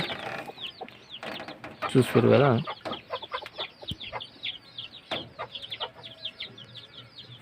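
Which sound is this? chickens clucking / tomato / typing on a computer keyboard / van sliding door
chickens clucking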